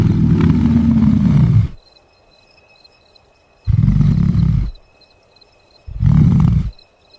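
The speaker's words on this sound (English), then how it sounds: "The alpha's roar echoes across the plains, a declaration of dominance under the cold," An Asiatic lion, a territorial alpha male, gives loud, deep roars in three separate bursts, the first long and the next two shorter, each broken off by quiet gaps, with no voices.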